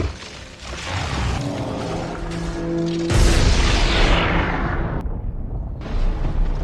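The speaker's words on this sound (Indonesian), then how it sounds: "Tessa berhasil meledakkan bom pembuku di dalam perut Kalsik" A bomb exploding inside a creature, heard as a sudden deep boom partway through that follows rumbling and a soft tonal swell, then a long roaring tail that cuts out and returns.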